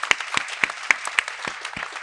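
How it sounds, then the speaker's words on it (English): A few hands clap for graduates at a school convocation, sparse, evenly spaced sharp claps close by, roughly one every quarter second, rather than a full crowd ovation. "Let's give them a round of applause."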